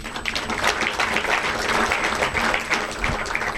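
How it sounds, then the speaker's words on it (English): Steady, dense applause from a crowd at an Independence Day celebration, continuous clapping at an even level throughout. "thank you for your applause"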